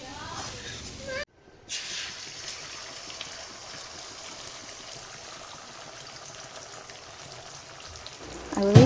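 Hot oil in a wok sizzles with a soft, steady crackle as an egg fries, briefly cut off near the start, then a louder burst of frying at the end.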